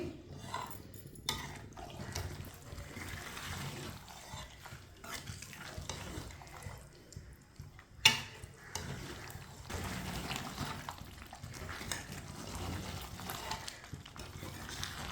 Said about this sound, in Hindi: मीडियम आंच पर इसे 5 मिनट के लिए चम्मच चलाते हुए पका लेंगे।